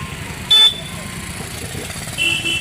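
Busy market street traffic with motorcycles, engines rumbling steadily close by, punctuated by two short horn toots, one early and one near the end.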